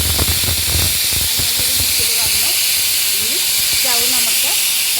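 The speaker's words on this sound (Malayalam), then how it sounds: "ഒരു വിസിൽ കേൾക്കുന്നത് വരെ നമ്മൾക്ക് വേവിക്കാം." A pressure cooker with chicken biryani vents steam in a loud, continuous hiss while voices talk over it.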